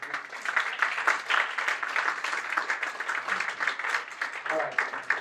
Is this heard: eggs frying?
no